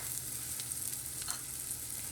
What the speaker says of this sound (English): let's add in our onion and our garlic, because those are going to be the two ingredients that really need a little bit more cooking